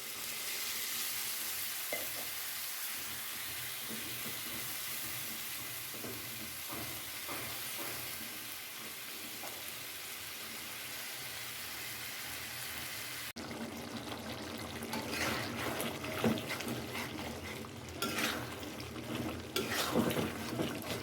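Chicken fries in a pan with a continuous soft sizzle, then the frying grows louder and busier, with bubbling crackle and stirring scrapes toward the end.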